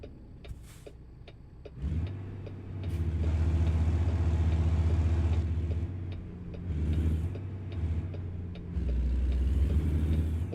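In American Truck Simulator, a truck engine drones with a low, steady rumble that swells and eases as the rig accelerates and slows near Moab, with faint clicks over the top and no speech.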